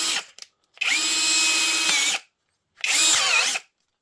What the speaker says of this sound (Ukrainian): Давайте включимо, послухаємо, як він працює.